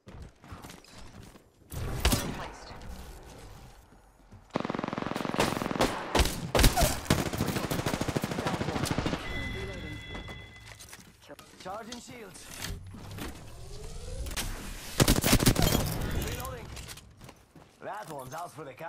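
Rapid gunfire bursts and sustained fusillades fill a first-person shooter match, loud and close, with pauses between volleys, mechanical clicks and voices talking over the action.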